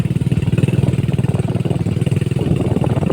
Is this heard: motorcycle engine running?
yes